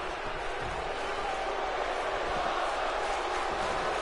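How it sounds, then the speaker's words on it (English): A wrestling event crowd gives a dense, continuous roar of yelling that stays steady and fairly loud throughout, with no single voice standing out. "You hear the crowd yelling, "This is awesome,""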